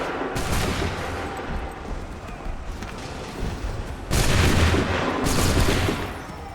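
A volley of gunshots fired on command bursts out loud and close, a heavy rumbling roar that swells sharply twice, with raised voices in the background.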